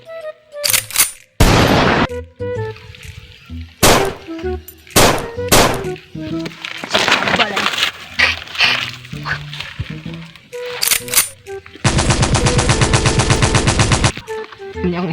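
Gunfire in a comedy skit, with loud single shots cracking out one after another, then a sustained rapid machine-gun burst near the end, with voices talking between the shots.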